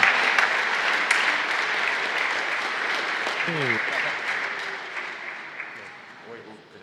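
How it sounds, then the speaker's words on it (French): Church congregation applauds during an Easter resurrection mass, with a dense, sustained wash of clapping that slowly fades, while a few voices speak briefly over it. "On peut les applaudir, oui."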